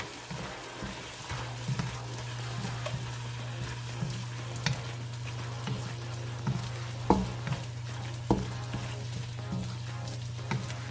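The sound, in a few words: mixing filling with grated cheese and Parmesan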